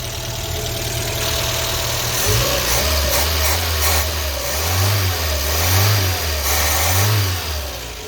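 A Renault 5 engine turns over and catches, then idles and revs in several rising and falling surges, loud and close with no talk.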